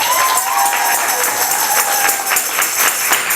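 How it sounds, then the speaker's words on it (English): Audience at a high school poetry slam applauding, a loud continuous wash of many hands clapping at once with crowd noise mixed in, steady from start to finish. "please, a round of applause for Miss Blessing and our librarian."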